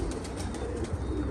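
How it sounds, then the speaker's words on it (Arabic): Pigeons coo softly in low repeated murmurs, fairly near, over a muffled outdoor background with no talk. "طبعا الطيور لمت"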